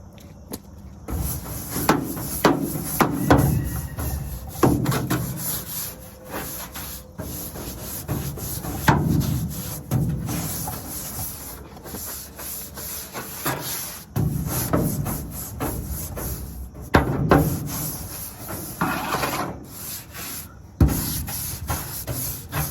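A brush scrubs rust off a galvanized metal farm tank: repeated rough strokes come in vigorous bursts with short pauses between them, loud and close.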